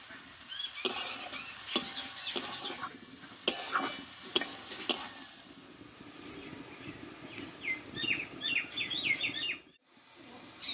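Bengali pea leaf greens (motor shak) being stirred in a pan with a utensil, giving scraping clatter and soft sizzle at close range, with birds chirping in the background and no talk.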